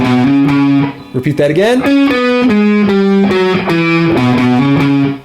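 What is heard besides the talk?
distorted electric guitar playing a riff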